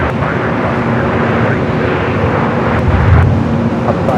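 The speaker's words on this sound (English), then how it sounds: "Delta 2198 RNAV Del Rey, runway 24 left, clear for takeoff." Delta airliner rolling for takeoff on runway 24 left at Los Angeles International Airport, a steady broad jet roar with wind buffeting, swelling slightly louder near the end.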